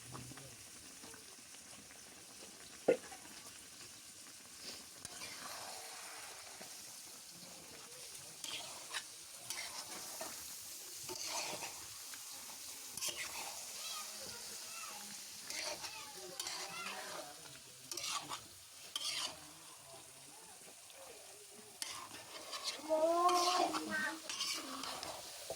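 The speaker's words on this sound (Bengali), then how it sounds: "আলুটিও এখন দিয়ে দেব, সুন্দর করে কষিয়ে নেব" Potatoes being sautéed and stirred into a desi chicken curry in a pan, with a continuous soft sizzle under repeated scraping and clattering stirs of a spoon against the pot, close and moderately quiet.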